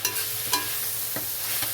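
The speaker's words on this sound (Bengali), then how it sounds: "লাস্টে সামান্য একটু পোস্ত দিলাম, দিয়ে শাকটা ভেজে নিচ্ছি" Leafy greens with a little poppy seed stir-fry in a pan, a soft, steady sizzle broken by a few light scraping stirs, fairly faint and with no voices.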